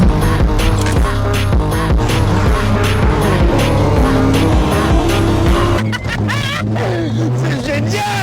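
Loud Renault Megane 3 RS Red Bull edition running continuously with a steady engine drone and some tire noise, music-like tonal bands and voices mixed in throughout.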